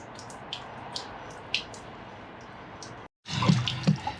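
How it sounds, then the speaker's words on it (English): Water and sediment drain from a travel trailer's water heater. Scattered drips and trickles are heard at first, then a louder gush of splashing water after a short silent break. "Some of the water is going to come out of here."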